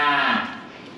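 A single drawn-out cow moo, close and fairly loud, fading toward the end with no other sounds around it.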